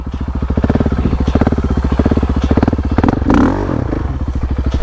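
A KTM 690 Enduro R dual-sport motorcycle pushes through deep grass, its single-cylinder engine thumping steadily and loud up close, with a brief surge and clatter near the end.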